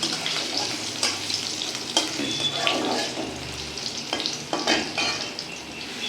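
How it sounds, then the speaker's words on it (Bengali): Potatoes fry in a pan over a medium gas flame with a continuous sizzle. Intermittent spatula scrapes and stirring knocks sound close by. "আলু কটা দিয়ে দেওয়া হলো, হালকা করে গ্যাস বাড়ানো রয়েছে মিডিয়াম, এটাকে ভালো করে হালকা করে ভেজে নেওয়া হবে"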